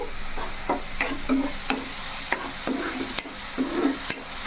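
Steady sizzling of masala paste frying in a hot pan for egg curry, with repeated scraping and stirring clicks at an uneven rhythm, close and moderately loud.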